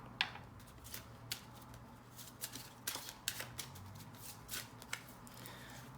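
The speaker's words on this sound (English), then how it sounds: "I'll do a little shuffle like I did before and see how these come out." Tarot cards being shuffled during a card reading: a quiet run of soft riffling and flicking bursts with brief snaps, close by, with a low steady hum underneath.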